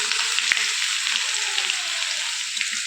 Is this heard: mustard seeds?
yes